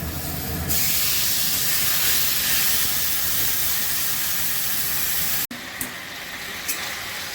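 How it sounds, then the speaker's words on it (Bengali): Water poured into a hot pan of fried spices for a bitter chorchori, giving a loud steady hiss and steam that cuts off abruptly, then a quieter sizzle with a couple of clinks. "অল্প জল দিচ্ছি খেতে করার জন্য"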